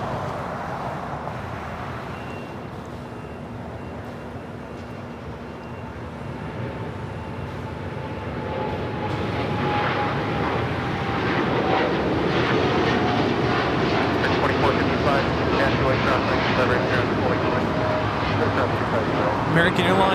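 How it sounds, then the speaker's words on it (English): An American Airlines Boeing 787-8 Dreamliner takes off at LAX, a broad jet roar building steadily from about halfway through and holding loud and continuous to the end, with talk over the top. "American Airlines Flight 27 taking off to Tokyo Haneda on the 787-8 Dreamliner"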